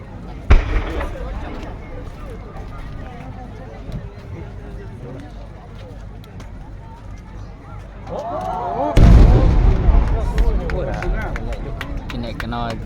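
A fireworks display at Ashikaga, Japan, with a sharp boom at the start and a bigger burst near the end trailing into crackles, under constant crowd voices and talk.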